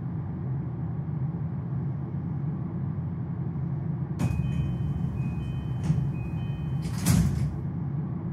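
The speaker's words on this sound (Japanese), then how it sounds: "2番線ドアが閉まります。" Train doors close on a JR Keiyo Line commuter train in a simulator, a low steady running hum with a sharp clatter and chime-like tone, then a second louder door thump near the end.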